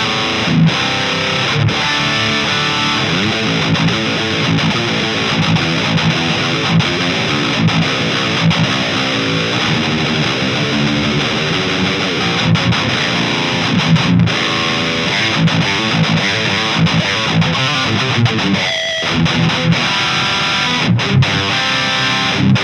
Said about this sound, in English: Next up is the German Power, and this one is modeled after an ENGL Powerball.